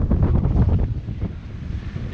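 Steady, blustery wind buffeting the microphone on a moving sailboat in a 21-knot beam wind between Les Saintes and Rivière Sens, with low rumbling gusts and a faint wash of water underneath.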